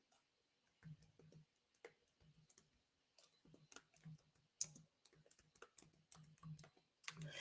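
Close keyboard typing in irregular bursts of quick clicks and taps, some quiet stretches between, with no talking.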